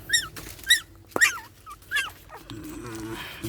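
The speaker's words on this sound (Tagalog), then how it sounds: "ito yung update sa 4 na tuta ko mga idol" Four young puppies give high, thin whimpers and yips in several short separate cries, close by, followed by low background rumble.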